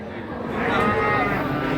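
A large pregnant cow at Tuban livestock market lets out a long, loud moo that swells and holds steady for nearly two seconds, close by amid the murmur of the market.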